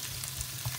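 Seasoned potatoes frying in oil in a single pan for a vegan breakfast scramble: a brief, even hiss of sizzling with a faint low bubbling underneath and no voices.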